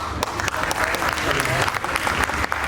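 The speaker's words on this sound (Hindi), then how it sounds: "ताली पहले बज गई" An audience at a poetry event breaks into a short burst of steady clapping, fairly close and dense, with some voices mixed in.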